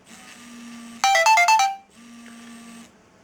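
John's Phone, a minimalist mobile, rings with an incoming call: a soft steady tone, then a loud, bright burst of rapid electronic chirps for about a second, then the soft tone again.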